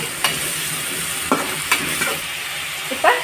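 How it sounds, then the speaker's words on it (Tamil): Ginger garlic paste sizzles in a hot pan while a spoon scrapes through it in a few distinct stirring strokes over a constant frying hiss. "இஞ்சி பூண்டு பேஸ்ட் போட்டுக்கலாம். இப்போ நல்லா பச்சை வாடை போற முடியும் நல்லா வதக்கிக்கங்க."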